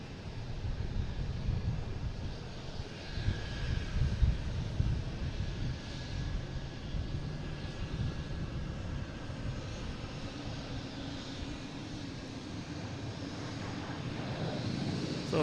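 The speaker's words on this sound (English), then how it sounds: "we got a Southwest flying right over us from Denver on final. On the downwind, sorry." A Southwest airliner from Denver passing overhead on downwind near Boston Logan, a low rumbling jet drone that swells and fades with some wind buffeting, moderately distant and alone.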